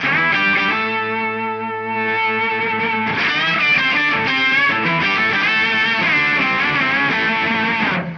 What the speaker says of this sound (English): You'll notice here I am playing my Vigier GV Wood with P90 pickups in it.